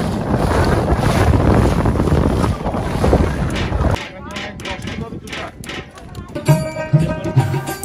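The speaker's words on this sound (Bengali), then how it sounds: "নদীতে প্রচুর বাতাস, ঢেউ এবং পানির প্রচণ্ড শব্দ" Strong wind buffeting the microphone over river waves and rushing water on a boat trip across Chalan Beel, loud and continuous, easing later into lapping water while voices talk in the background.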